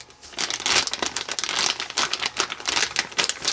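A plastic Wilton piping bag crinkles and rustles loudly up close as it is folded over, a dense burst of crackling handling noise with no talk.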